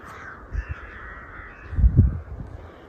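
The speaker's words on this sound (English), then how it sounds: "Birdies." Crows cawing outdoors on a damp hillside path by stone stiles, two short calls and then a louder, harsher burst close by, over a soft steady background hiss.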